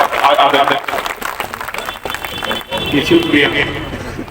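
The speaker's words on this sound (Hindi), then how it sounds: "आप जोरदार ताली बजाकर स्वागत" A crowd at a political rally in Kiratpur claps loudly to welcome the meeting's chairman, a dense, steady roar of hands mixed with shouting voices that dips briefly and then swells again.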